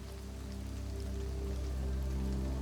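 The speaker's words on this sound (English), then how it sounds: "the rain begins to fall slightly faster" Steady rain patters down continuously, a soft even hiss with low rumbling underneath, gradually growing a little heavier toward the end.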